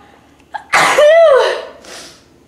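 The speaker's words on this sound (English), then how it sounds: "Sneeze" A single loud, close sneeze with a sharp intake and explosive burst, trailing off into a short breathy tail.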